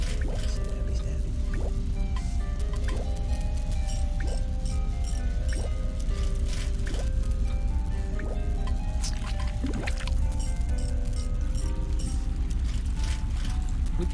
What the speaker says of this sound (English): I could hear water flow through the pipes to another part of the building